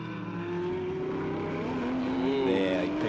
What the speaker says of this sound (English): There, he picks up the throttle super early.